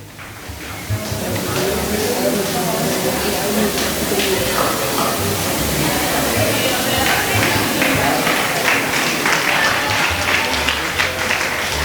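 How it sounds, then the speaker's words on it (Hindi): Loud, sustained applause from a gathered crowd at a school teacher's retirement function, dense clapping running steadily for the whole stretch with a faint murmur of voices underneath. "तालियों की गड़गड़ाहट जोरदार से"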